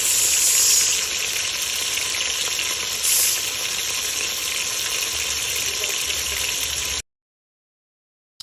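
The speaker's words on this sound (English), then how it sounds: "It's just like a sizzle. I like the sizzle." Food fries in a pan with a loud, close, continuous hiss and sizzle for about seven seconds, with a brief surge near the start, then cuts off abruptly into silence.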